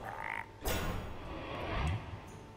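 Frogs croak in the Hearthstone video game, a few low ribbiting croaks over soft game background sounds, with no talking.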